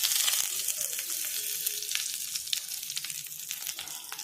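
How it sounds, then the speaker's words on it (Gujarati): Hot tempering with curry leaves and a green chili poured into coconut chutney, giving a steady close sizzle and crackle that holds for several seconds with no voices. "આ વઘાર આપણે ચટણીમાં રેડી દઈશું।"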